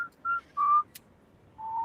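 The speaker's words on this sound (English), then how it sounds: "Whistling." A person whistles a few short, clear notes, then a longer sustained one after a brief pause, close and alone with no talk.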